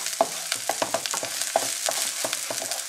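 Sliced white onion frying over high heat for a dumpling filling, with a run of irregular soft sizzles and stirring scrapes close by and no talking.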